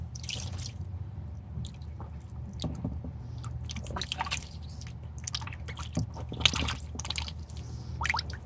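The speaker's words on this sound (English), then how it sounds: "They're splashing all over the place." Pet birds splash in a water bath indoors, producing quick irregular wet flicks and drips in bursts over a low steady background hum.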